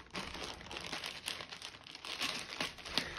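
Packaging of a Coodeals diamond painting parcel being opened, continuous close crinkling and crumpling of plastic and paper with sharper tearing bursts throughout.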